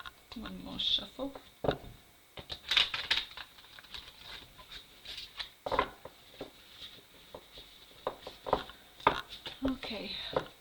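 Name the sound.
shuffling tarot cards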